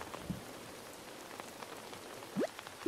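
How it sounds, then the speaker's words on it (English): Rain falls outdoors in a faint, steady patter on surfaces, with a couple of brief bird chirps rising above it. "Uh-oh, raining."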